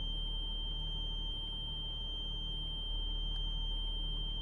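A steady, piercing electronic beep like a smoke detector sounds continuously inside the OMSI 2 bus simulator on a Lincolnshire route, holding a constant tone over a faint low hum, with no talking.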